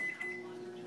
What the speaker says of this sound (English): We've got in the microwave right now, I'm going to go 45 seconds.